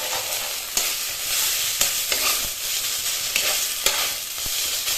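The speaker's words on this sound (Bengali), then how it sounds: "এবার ভালোভাবে খোসাটাকে নাড়তে থাকবো যতক্ষণ না দলা পাকিয়ে আসছে।" Green banana peel paste with sugar is stirred in a hot pan, a loud, steady sizzle punctuated by regular sharp scrapes and taps of the spatula against the pan bottom, with no talking.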